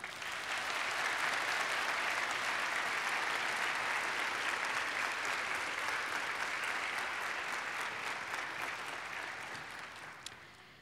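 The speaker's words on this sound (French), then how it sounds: "Applaudissons nos invités d'honneur." A crowd at a university faculty graduation ceremony applauds steadily for about ten seconds, a dense wash of clapping that holds even before tapering slightly at the end.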